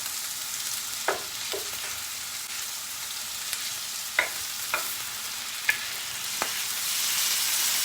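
Steady frying sizzle of peppers in oil fills the clip, with occasional clicks and scrapes of stirring in the pan, close and continuous.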